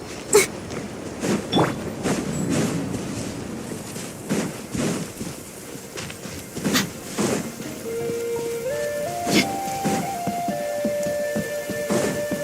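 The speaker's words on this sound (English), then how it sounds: "it does actually rain in the desert on occasion. And when it does, it's always a lot heavier than this." Rain falling in a desert in the video game Genshin Impact, a steady wash of light rainfall with scattered soft drops throughout, joined by faint tonal music in the second half; no clear thunder stands out.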